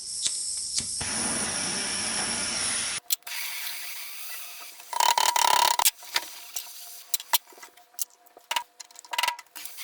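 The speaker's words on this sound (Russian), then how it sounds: "Ей я придаю форму при помощи газовой горелки" Gas torch heating a 1.5 mm titanium plate while bending it into a folding knife clip: a steady close hiss for about three seconds, then sharp clicks, taps and brief bursts of noise.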